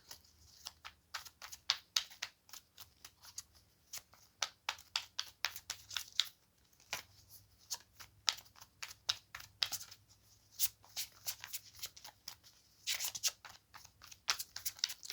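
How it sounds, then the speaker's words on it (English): Tarot cards are shuffled by hand during a card reading: a long run of quick, crisp riffles and slaps in bursts, close and fairly quiet, with brief gaps between rounds. "skip ahead of the shuffling."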